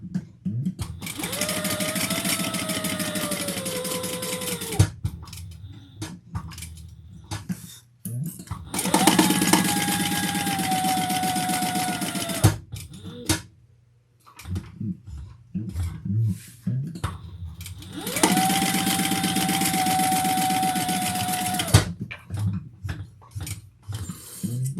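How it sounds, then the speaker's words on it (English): A sewing machine bastes the sides and bottom of a fabric bucket bag in three long runs of fast, buzzing stitching, separated by quiet pauses with small handling clicks and fabric rustle. "And then we'll baste the sides and the bottom."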